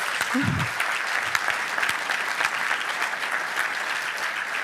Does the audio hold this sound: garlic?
no